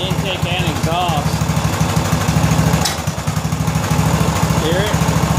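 A 2000 Scotts by John Deere lawn tractor engine runs at a steady idle with a faint irregular popping, suspected from tight valves. It chugs continuously and close by, with someone talking over it.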